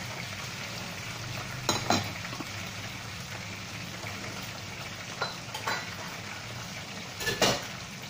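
Cashews and raisins frying in a pot for chicken Nasi Bukhari, a steady sizzle under a few brief spoon-and-pot clatters.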